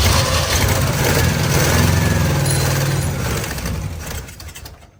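A 1968 Oldsmobile Cutlass V8, found abandoned in a field, fires briefly on gas poured into the two-barrel carburetor: a loud, rough, lumpy idle that runs for a few seconds, then fades as it dies.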